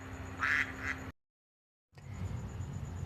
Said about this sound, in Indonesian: Itu suara bebek ngawek-kwek.